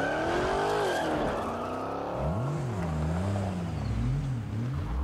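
A car engine revs and drives in the Saints Row video game, a loud continuous roar with rising and falling pitch and a squealing shift early on, with no speech.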